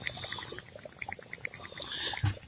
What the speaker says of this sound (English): So I kept hearing something like water, and it's the ground bubbling.